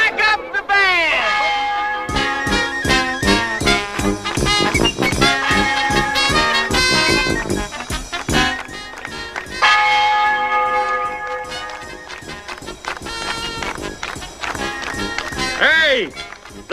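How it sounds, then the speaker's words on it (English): Church bells peal loudly in a film scene, with rhythmic repeated clangs against a busy orchestral and crowd backdrop, and people shout over them. "Ring out the church bells."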